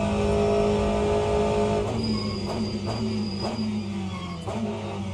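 An Aston Martin race car at COTA in Le Mans Ultimate, its engine giving a loud, sustained tonal drone that shifts pitch between corners, with brief gear-change or braking blips, no talking.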